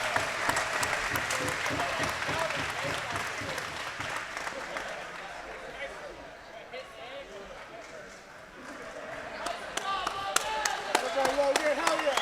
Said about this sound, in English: Audience gives him a round of applause.